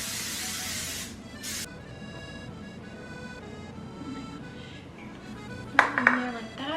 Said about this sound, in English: I need to spray this pan with Pam spray